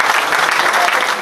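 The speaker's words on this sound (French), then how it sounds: "On peut l'applaudir aussi" Steady audience applause at a 2017 agricultural show (comice) in Cuon, loud and dense, filling the short moment without a break.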